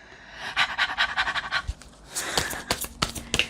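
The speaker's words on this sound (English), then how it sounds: "heavy breathing." Rapid, rhythmic panting breaths, loud and close, continuing steadily with a few breathy bursts toward the end.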